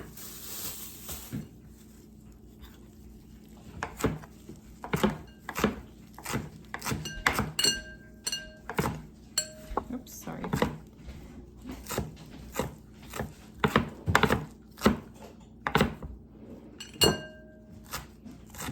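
Home-grown garden vegetables are chopped with a knife in a bowl, giving steady close knocks and taps that speed up into a brisk rhythm, with occasional light clinks and no speech.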